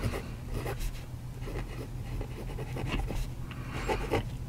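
A vintage Wearever fountain pen nib scratching across paper in short, close strokes with soft, irregular friction sounds, quiet and without talk.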